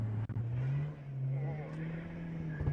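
A Volkswagen Golf 3's naturally aspirated engine holds a steady drone close by as its wheels spin, with a quick rev at the start, and talk can be heard over it.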